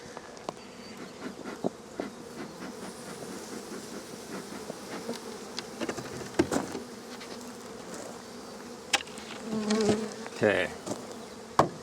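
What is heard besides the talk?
honeybees buzzing in an open hive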